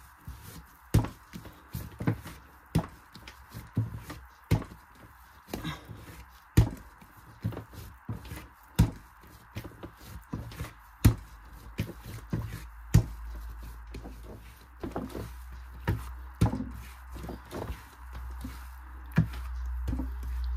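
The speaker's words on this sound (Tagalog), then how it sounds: "Magmasa na po tayo." Pan de ciosa bread dough kneaded by hand on a work surface, giving repeated soft slaps and thumps in an irregular rhythm, close and moderately loud with no talking.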